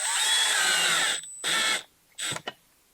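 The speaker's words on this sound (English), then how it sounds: "Just take 2 screws and you're going to screw one into the top hole." A cordless drill drives a screw into the top hole of a wall mount: a short whirring burst of just over a second, then a briefer second burst and a couple of quick final clicks, close and fairly quiet.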